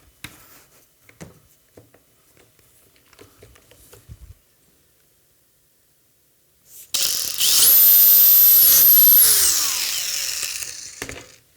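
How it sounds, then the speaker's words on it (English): A power drill bores a hole through a back support panel in a single loud burst of about four seconds, its motor pitch steady and then dropping off as it stops, after some quiet handling clicks. "Let's readjust so we can drill the hole on the other side as well."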